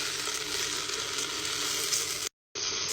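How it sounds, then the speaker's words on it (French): Food sizzling and browning in a pan in a Marrakech kitchen, a steady, close, bright frying hiss that runs continuously and cuts out briefly near the end, with no talking. "Je laisse un peu rissoler comme ça"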